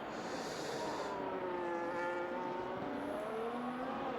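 A Ferrari-engined race car in a racing video game drones steadily throughout, engine pitch rising and falling in smooth sweeps as it accelerates and shifts, loud and continuous with no talk.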